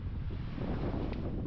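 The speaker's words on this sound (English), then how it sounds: "Oh, it has been quite windy today" Wind buffets the microphone on a beach in Crete, a steady, close, broadband rush with a faint surf-like wash underneath and no voices.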